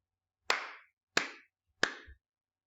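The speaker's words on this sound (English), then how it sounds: "I will clap to show you the sounds" Three sharp hand claps, evenly spaced about two-thirds of a second apart, close and crisp with short decays, then silence.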